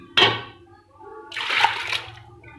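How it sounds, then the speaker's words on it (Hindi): Soaked lentils and water poured into a cooking pot make two splashing, gushing pours, the second longer and fuller, close by in a home kitchen. "तो सारी दाल जो है, तीनों दालें जो हैं वो मैं इसमें ऐड कर दूँगी।"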